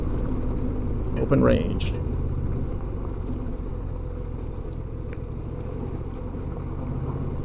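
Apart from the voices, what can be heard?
Honda Transalp motorcycle riding on gravel road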